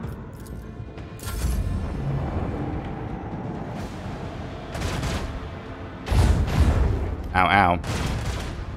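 Gunfire and explosions strike a starship during space combat in the Warhammer 40K: Rogue Trader video game, a dense run of booming impacts and bursts that swell louder near the end, heard under a player's talk.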